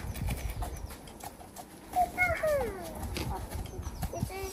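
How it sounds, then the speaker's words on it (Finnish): A horse on a farm in Finland whinnies in a short rising-and-falling call, close by, while people talk softly around it. "Toinen heppa."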